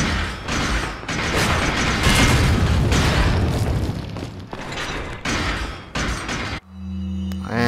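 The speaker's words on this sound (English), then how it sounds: "we're gonna hit him with a grenade first." A grenade blast in Resident Evil 4 on PS4 erupts as a loud, rumbling boom with crackling debris that lingers for several seconds before cutting to a tonal game effect.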